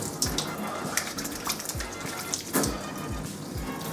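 Running tap water splashes steadily as soap is rinsed out of a paint brush at a sink, with brief louder gushes and drips, close and continuous with no talking.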